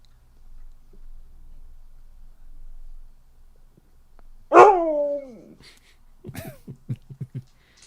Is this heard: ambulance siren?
no